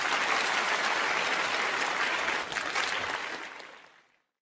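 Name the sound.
applause at an awards show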